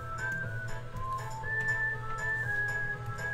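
A person whistles a wandering tune in thin, steady notes, close by, with a low hum of background noise underneath and no talking.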